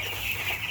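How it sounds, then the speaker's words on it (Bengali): A small, ten-day-old broiler chick being caught for weighing on a farm gives a steady, close clucking and cheeping under dense background chick noise. "ওই একটা মুরগি ধরো কিন্তু, এই মুরগি দাঁড়া একটা ছোট্ট মুরগি ধরি, ছোট্ট।"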